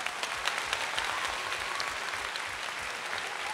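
Warm applause from a sing-along audience at a live church event, a steady, dense wash of many clapping hands heard from a distance, continuing evenly without any talk.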